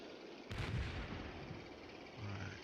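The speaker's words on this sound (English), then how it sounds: "We've got one mortar firing for effect." A single mortar fires for effect in the Combat Mission: Battle for Normandy war game, a faint distant thump followed by a low rumbling tail under battlefield ambience.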